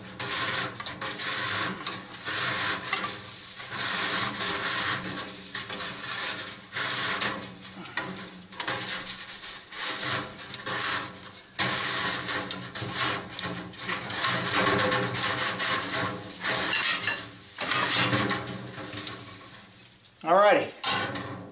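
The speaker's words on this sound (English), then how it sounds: "I twist the rod this way to tighten anything that I've loosened." Chimney sweep rods are twisted and screwed together, giving a steady, loud grinding and scraping rattle with continuous mechanical friction that runs for about twenty seconds, heard alone.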